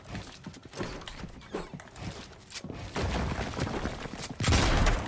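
Fortnite gunfire crackles in rapid bursts of close shots with loud, uneven pops that build to a heavy volley at the end.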